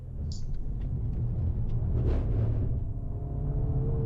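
An Acura Integra Type S engine rumbles steadily at close range on a hot lap, a low droning hum that holds through the stretch with a slight swell in the middle.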